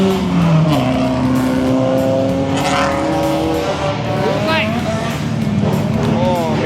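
Loud drift cars revving at Motorland Mikawa in a team drift battle, engines sweeping up and down in pitch with rising and falling whines close by, people talking beneath the roar.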